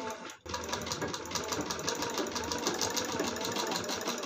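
Sewing machine stitching the fitting seam of a long-sleeved blouse, a fast even mechanical rattle running steadily after a brief pause at the start, close and alone.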